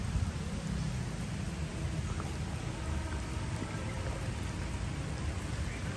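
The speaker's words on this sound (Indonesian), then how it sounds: "saat ini hujan" Rain falls steadily in Jakarta, a dense, even hiss of drops on surfaces that stays loud and unbroken, with no talk.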